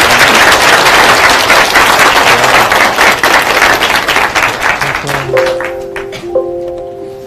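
A packed university lecture hall audience at Chonnam National University bursts into loud, dense applause to welcome the speaker. The clapping stays strong, then thins out near the end as a few voices rise.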